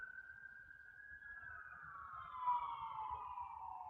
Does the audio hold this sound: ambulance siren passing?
yes